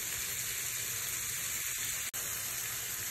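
Shrimp frying in a pan with black pepper, a steady faint sizzle with soft crackling throughout and one sharp brief click partway through.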